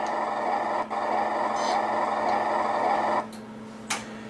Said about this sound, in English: You can hear the turret a little bit better now.